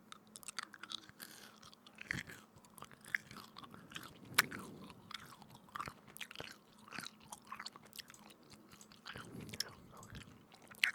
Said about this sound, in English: but I have got some chewing gum.